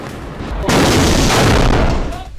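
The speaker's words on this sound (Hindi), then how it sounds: "लाल सागर से हूती इजरायली पोर्ट पर मिसाइल अटैक कर रहा है।" A missile attack explosion from news footage, a loud, dense rumbling boom that swells and holds for a moment before tapering off.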